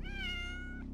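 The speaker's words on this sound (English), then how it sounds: "It's the little black cat." A little black cat in the video game Otogirisou: Rebirth gives one drawn-out, clear meow that rises and then trails off, heard alone and close.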